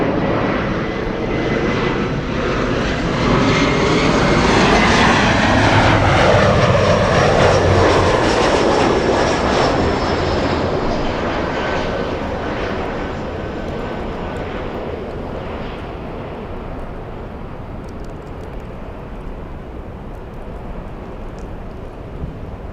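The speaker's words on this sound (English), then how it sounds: "Looks like it's a little E175. Little one, Skywest 3454, flying in from San Jose, California." SkyWest Embraer E175 jet airliner arriving at LAX, a loud, sustained engine roar swelling as it passes nearby, then slowly fading with wind noise over the microphone.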